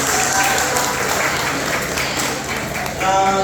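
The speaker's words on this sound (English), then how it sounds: "Okay, another quick round of applause for Tamara Jones." A room full of people at a winter social event claps steadily for a guest speaker, with a slight swell near the end.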